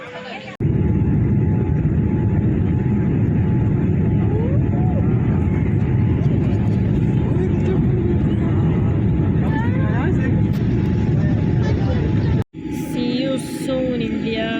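Steady loud droning hum of an airplane cabin at night while waiting for takeoff, heard from a window seat, continuous engine and ventilation rumble with a brief dropout near the end and some faint background sounds.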